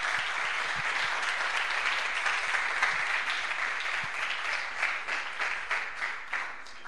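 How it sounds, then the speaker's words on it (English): Audience applause at a retro video game development contest awards ceremony, a loud, continuous spread of many people clapping that stays full for several seconds before thinning slightly toward the end, with no voices over it. "Great applause for Carlos Aragonés from Lucera Project."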